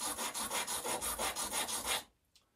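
A ceramic tile piece scraped back and forth on a worn sharpening stone, about ten rhythmic gritty rasping strokes close to the ear, then stopping abruptly into near silence.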